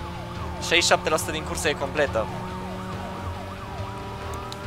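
Police car siren wailing in a continuous, sweeping up-and-down tone during a street race in the video game Need for Speed Most Wanted, with engine drone underneath and a voice speaking briefly over it early on.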